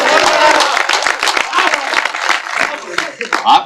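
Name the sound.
audience applause at Hindi poetry event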